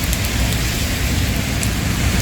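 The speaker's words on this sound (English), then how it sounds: "And it's raining here in Butuan City." Heavy rain pours down in Butuan City, a dense, steady hiss of drops drumming on surfaces, loud and close, with no voices over it.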